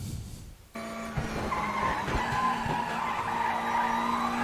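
A Lada race car in a racing video game, Tuesday Thunder series at Salzburgring, driven hard under throttle: a steady, loud engine drone with tyre skidding and squeal running continuously after a brief quiet start.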